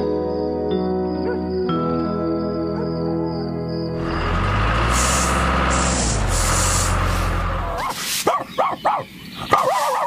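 A cartoon dog in an animated children's farm show barks in a few sharp yaps near the end, after music and a steady spraying hiss, with a jingle of tinkling sounds.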